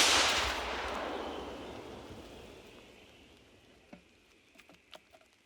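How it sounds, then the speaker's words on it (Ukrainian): A single heavy artillery blast booms at the start and rolls away into a long fading echo, followed by a few faint distant pops. "Давай постріл! Постріл!"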